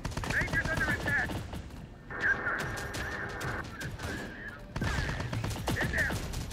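Gunfire in the strategy game Terminator Dark Fate Defiance crackles in rapid bursts of machine-gun shots at a steady loud level, with radio-style unit voices speaking over the battle.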